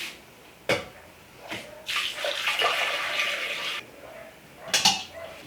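Hot pear juice is poured from a pot, giving a hissing, splashing stream that starts and stops in separate bursts, close up, with a few clinks of containers and no speech.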